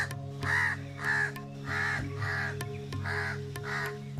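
A jay (gralha colombo) calls loudly in six harsh, evenly spaced caws over a steady low background hum.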